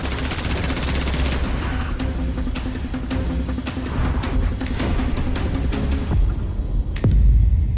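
Heavy gunfire and explosions in a giant mutant monster horror film: dense, loud bursts of rapid shots crackle continuously, punctuated by sharp impacts, ending in a deep booming blast.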